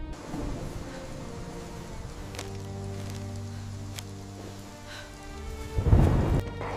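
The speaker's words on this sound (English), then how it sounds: "A sudden storm meant a frantic race against the rain." Rain hisses steadily while low thunder rumbles and rolls underneath, with a few sharp cracks and a heavier close rumble swelling near the end.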